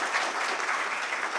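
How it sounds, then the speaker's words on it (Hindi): An audience at a Chhattisgarhi language workshop claps steadily, a dense, even burst of applause with no voices over it. "चाहो तो ताली बजा के हमारे उत्साहवर्धन कर सकत हो"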